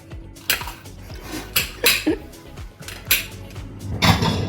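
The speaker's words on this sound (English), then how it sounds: "Don't judge my chopping skills" Knife chopping vegetables on a plate during home meal prep, a handful of sharp irregular clacks with pauses between them, close and clear in a quiet kitchen.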